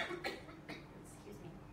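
A few short coughs, fairly close, with brief pauses between them and a faint hum underneath.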